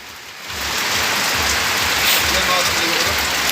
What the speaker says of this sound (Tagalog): Ayan po ang ulan, lumakas na.